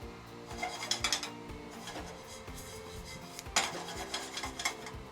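Rice toasting in a pan in a restaurant kitchen before wine and broth go in, heard as close, quiet scraping and rubbing of a utensil stirring against the pan in irregular strokes, with a few sharper metallic scrapes.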